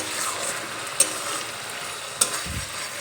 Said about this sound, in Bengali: মশলাটা আমি খুব ভালোভাবে কষিয়ে নেব।